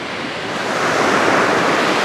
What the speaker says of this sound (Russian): Море шелестит, небольшой прибой.